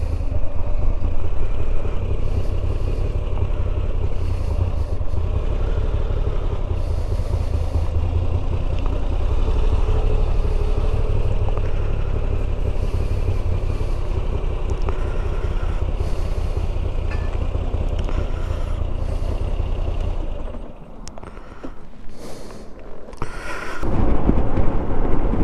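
A Moto Guzzi V85TT motorcycle on the ride back from Salisbury, a loud continuous engine drone with wind rumble that steadies for about twenty seconds, then drops as it slows before picking up again.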